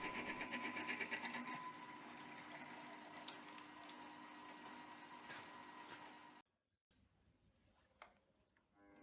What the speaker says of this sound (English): Each end can now be drilled out for an M10 thread.